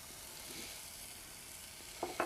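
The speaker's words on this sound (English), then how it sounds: "I'll continue sauteing this" Onions and sliced garlic fry in a pan with a steady, hissing sizzle that stays continuous throughout, and a couple of brief stirring scrapes come near the end.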